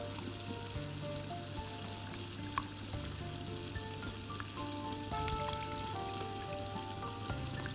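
Milk for a béchamel sauce being stirred constantly in a hot pan, soft steady sizzling with repeated light scraping and clicks of the spoon, fairly quiet and close with no talking.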